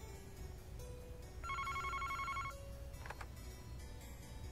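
Telephone ringing in the Famicom Detective Club video game, a steady electronic trill pattern sounding for about a second amid quiet background music, with no voices.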